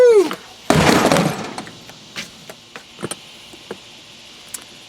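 A Plano ammo can dropped onto a boat deck in a torture test lands with a loud crashing clatter, then rattles and knocks fade out in a series of smaller bumps.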